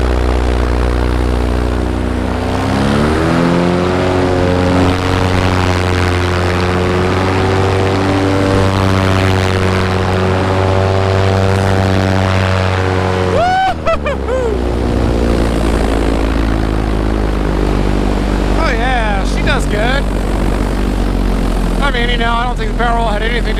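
A SkyMax paramotor engine drones loud and steady in flight, its pitch sweeping and shifting as the craft rolls through a barrel roll, with wind buffeting near the end.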